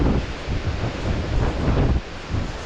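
Wind blows strongly across an open valley with dead ferns, buffeting the microphone with a loud, continuous low rumble and gusts that surge and ease.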